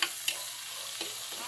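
Tomato and onion sizzle in a hot pan as they are stirred, a steady hiss of frying broken by a few brief scraping clicks of the utensil.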